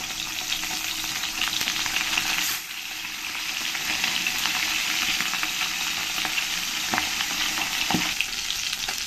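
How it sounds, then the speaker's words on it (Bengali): Katla fish heads fry in hot oil in a kadai with a loud, continuous, close sizzle. Occasional sharp clicks and scrapes of stirring break through the hiss. "এবার এর মধ্যে আমি এই মাছের মাথাগুলো ভালো করে ভেজে নেব।"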